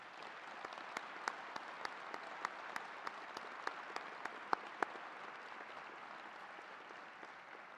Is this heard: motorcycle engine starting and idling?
no